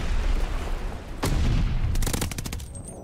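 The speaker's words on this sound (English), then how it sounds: "Throw a nade right down." A grenade blast in the shooter game Call of Duty: Vanguard, a sudden loud boom midway through the clip followed by a rapid burst of gunfire over steady battle noise.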